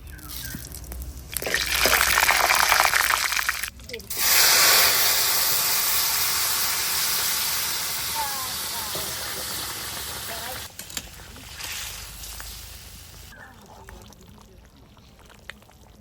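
Oil tempering in a pan with dried red chilli, bay leaf and cumin for a Bengali potato curry, a steady broad sizzle and hiss that holds for many seconds, easing slightly toward the end.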